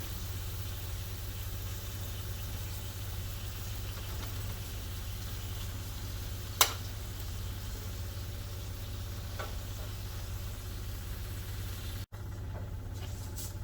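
Ground beef cooking in a pan over low to medium heat gives a quiet, steady sizzle over a constant low hum, broken by one sharp tap midway and a brief dropout near the end, with no talking.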